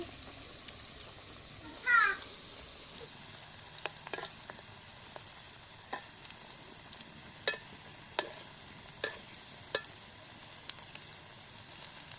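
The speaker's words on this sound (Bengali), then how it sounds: "এবার পেঁয়াজিগুলো ভেজে নেব" Onion fritters (piyaji) frying in hot oil, a soft continuous sizzle with a brief louder burst near the start and scattered sharp crackles and pops throughout, close up with no voices.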